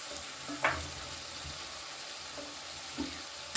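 Malabar spinach stalks and radish pieces fry on a high flame, a steady loud sizzle with a couple of brief stirring scrapes and clinks close by, no voices.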